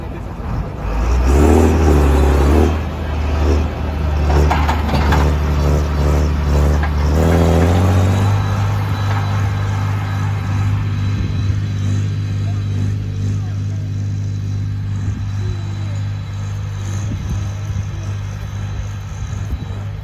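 A YTO tractor at a farm-machinery field-day demonstration starts up, its engine catching with a loud rising roar and then settling into a steady, throbbing idle, with voices nearby.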